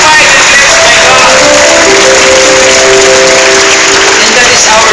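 A church congregation claps together at an evening service, a dense, loud burst of applause lasting several seconds, with a voice talking over it.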